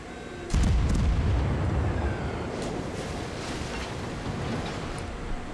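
Shells from a Pensacola cruiser landing nearby in World of Warships: a heavy booming impact hits suddenly, then a long rumbling roar of explosion and water settles into a loud sustained wash.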